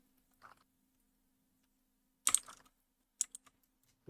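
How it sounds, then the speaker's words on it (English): Computer keyboard typing during a casual mic-on work session, heard as a few short bursts of close, quiet key clatter separated by silence. "Hope my keyboard's not too loud."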